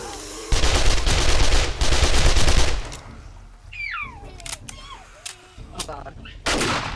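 Rapid bursts of gunfire in the survival game 7 Days to Die, loud and dense for a few seconds, then tapering into scattered shots with short chirping sounds, a final burst at the end.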